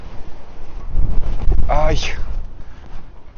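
Steady outdoor wind buffets the microphone at a rural Kazakh homestead, a loud continuous rush with gusty low rumble throughout and a brief whistling tone midway.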